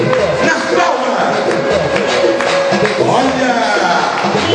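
A street-show audience in a busy town square claps steadily and thickly throughout, with cheering and crowd chatter mixed in.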